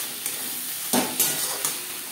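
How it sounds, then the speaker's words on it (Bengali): Onion, tomato and spices with salt sizzle in a frying pan for an ilish and potato curry, a steady loud fry punctuated by a few brisk stirring scrapes, close up. "ও মশলার সাথে লবণ বেশ ভালো করে মিক্স করে দেবো।"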